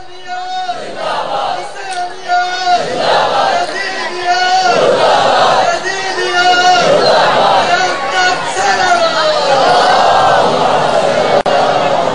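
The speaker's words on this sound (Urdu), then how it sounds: "کھل کر نعرے لگائیں" Crowd at a religious majlis in Jhang chanting slogans in loud, rhythmic call-and-response waves, many voices shouting together in repeated bursts that grow fuller and louder.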